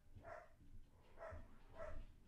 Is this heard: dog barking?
yes